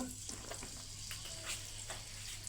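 Hot oil sizzling in a pan at the start of cooking a fish curry, a steady close-up hiss with light crackles and no voices.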